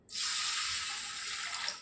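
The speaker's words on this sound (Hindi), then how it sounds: "एक जग पानी ऐड कर रही हूँ" Water pours steadily from a jug into a pot of green moong dal, a continuous splashing stream for a couple of seconds, close and fairly quiet.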